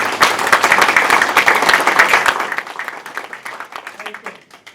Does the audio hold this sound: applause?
yes